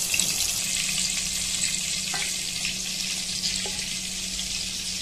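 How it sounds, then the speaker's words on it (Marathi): Chicken balls fry in hot oil on a slow flame, a steady crackling sizzle that fills the clip, broken by a couple of faint clinks as they are turned, with no talk. "असे मी सगळे बॉल भाजून घेणार"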